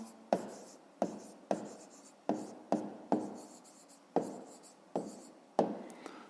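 Numbers are written by hand for a fifth-grade maths exercise: a steady series of about ten short scratchy pen or chalk strokes, each a crisp onset with a brief fading tail, close and clear with no voice.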